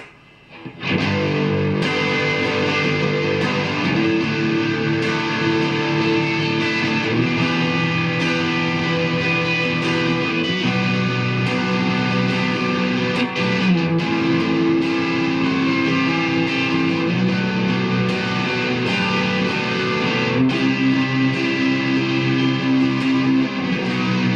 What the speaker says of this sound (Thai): เสียงแตกแอมเขาเป็นของมาเชลนะครับ